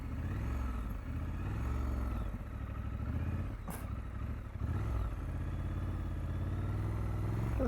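A 2021 Triumph Scrambler 1200 XE motorcycle engine runs steadily at low revs during a slow road turn, a loud, continuous, close-up rumble with a brief sharp clatter midway.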